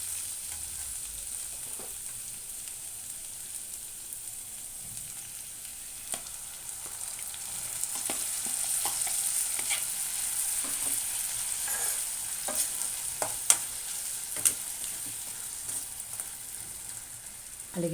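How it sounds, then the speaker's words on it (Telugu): Onion paste frying with already browned onions in a pan, a steady soft sizzle with occasional stirring scrapes and clicks, fairly close and low in level, no talking. "ఫ్రెండ్స్, ఉల్లిపాయలు వేగాయి కదా, ఇందులోనే ఉల్లి ముద్ద కూడా వేసుకుందాము."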